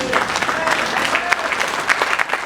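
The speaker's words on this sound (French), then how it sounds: "Est-ce que nous pouvons acclamer le Seigneur?" A church congregation at a thanksgiving mass applauds to acclaim the Lord, with steady loud clapping from a crowd and some voices mixed in throughout.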